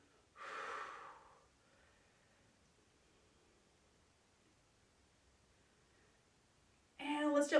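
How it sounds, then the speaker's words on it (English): Two deep breaths during a bodyweight and towel strength workout, one near the start and one at the end, soft and close, with near silence between them. "Nice deep breathing."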